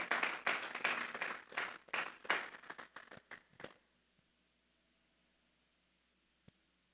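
A church congregation claps and applauds loudly and steadily for about three and a half seconds, then stops abruptly, leaving a quiet room with one faint tap.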